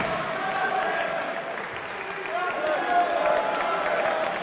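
A packed wrestling crowd at the Harvey Haddon Sports Arena in Nottingham during an ROH title match roars and claps steadily, a broad wash of noise swelling slightly toward the end, with a commentator talking over it.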